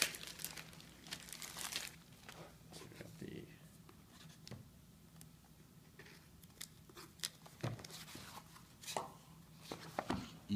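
Amazon Fire TV Stick packaging being opened by hand, with crisp crinkling, tearing and scattered sharp clicks and snaps of cardboard and plastic in a quiet room, a steady low hum beneath.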